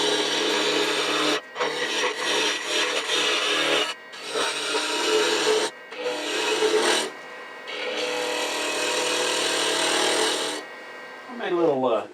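Wood lathe spinning as a 5/8 inch spindle gouge cuts a Nordic gonk ornament, a loud, continuous scraping rasp broken by a few short pauses. A voice sounds briefly near the end.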